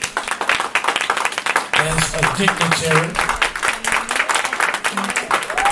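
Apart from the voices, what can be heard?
congregation hand clapping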